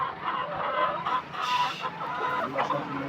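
Chickens raised for eggs cluck steadily on a farm, several birds overlapping in a close, continuous chatter that swells and dips across the few seconds with no talking.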